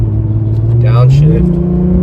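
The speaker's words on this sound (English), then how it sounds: "We're in sport mode, manual. I'm gonna downshift" Lexus IS engine in manual sport mode with a racing tune, the note steady and then rising sharply as it revs on a downshift, with a loud droning cabin rumble and a voice talking.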